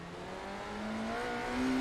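Race car engine at full throttle in a Daytona sim racing game, a steady whining drone that climbs gradually in pitch and loudness as the car accelerates in third gear.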